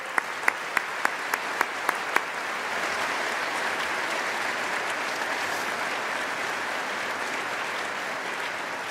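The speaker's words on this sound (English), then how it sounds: "a round of applause for Conor and NTSU is absolutely in order." Applause from the audience at a university science and technology graduation ceremony, opening with a few distinct claps and swelling into a steady, even round of clapping from a sizable crowd.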